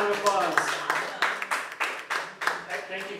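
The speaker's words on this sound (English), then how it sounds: "Give them a round of applause." A round of applause rises for a winning band at a sing-along event, with loose clapping under a speaking voice and a few sharper claps standing out.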